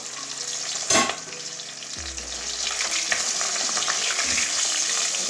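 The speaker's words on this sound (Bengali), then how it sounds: "লাল লাল করে ভাজবো মাথাটা" A rohu fish head fries in hot oil with a dense, loud sizzle and crackle, a sharp clatter near the start as it is flipped, then a continuous spitting fry.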